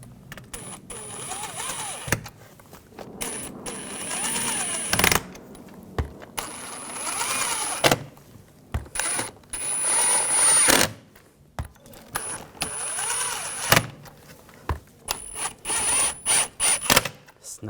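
Screws being driven into the front seat back of a 2021-2023 Jeep Grand Cherokee L: repeated short bursts of whirring, ratcheting driver noise with clicks and pauses between, close up, with faint talk at times.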